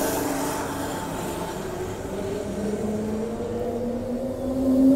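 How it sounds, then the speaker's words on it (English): A train rumbles past with a steady low roar and a rising metallic whine from the wheels, growing slightly louder toward the end. "Here comes a train over there coming in as well."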